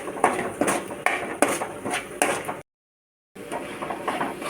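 Mutton masala is stirred in a pan for Chettinad mutton sukka, with a spoon scraping and knocking against the pan in a steady rhythm and a short silent break partway through.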